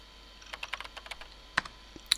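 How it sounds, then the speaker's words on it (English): Keyboard typing from the visual novel game ChäoS;HEAd comes as a quick burst of close, crisp key clicks followed by a few louder isolated keystrokes, with no voice. "Seated in my chair, I started typing."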